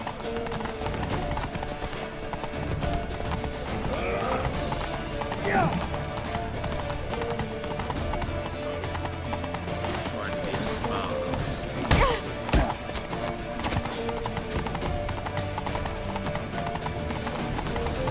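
A horse gallops in The Witcher 3 video game, with steady rhythmic hoofbeats running throughout under game music and voices calling out, plus a couple of louder thuds near the end.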